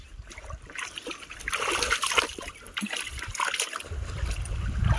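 Golden retriever swimming in a village lake, with close sloshing and splashing that builds up in busy bursts, along with some trickling water and faint background noise.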